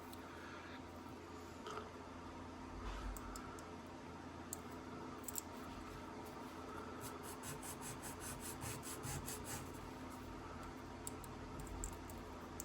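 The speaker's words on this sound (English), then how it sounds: "Just take my emery board. I'm going to run these across, give them a couple swipes" Emery board rubbed across small plastic model kit parts of an MPC Raiders Coach build; quiet, steady scraping swipes with faint clicks, close up and without talk.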